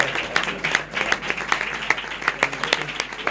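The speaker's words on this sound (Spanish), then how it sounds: "Un gran aplauso." Audience applause at a carnival award ceremony in Isla Cristina, a lively, loud burst of clapping with distinct individual claps standing out through the steady crowd noise.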